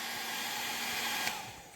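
A hair dryer runs close by with a steady, loud, broadband whoosh and airy hiss throughout, with no talking.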